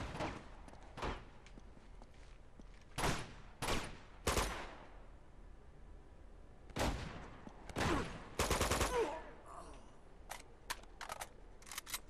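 Enemy shotgun blasts in a gunfight at a choke point, sharp loud reports spaced irregularly across the span, some in quick clusters, with quieter rattles and ambient noise between shots.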